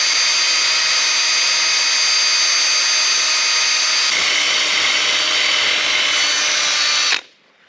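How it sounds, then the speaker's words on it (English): A vacuum runs loud and close, drawing debris out of a 1939 Caterpillar diesel engine head near the pre-combustion chamber, a steady high whine with a slight shift in pitch partway through before it cuts off abruptly. "Good idea vacuuming that out of there."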